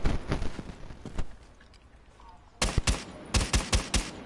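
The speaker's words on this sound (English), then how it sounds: "Is he shooting at me?" Pistol shots in a Rainbow Six Siege match land as sharp, separate cracks: a sparse cluster first, a lull, then a quicker volley of closely spaced shots near the end.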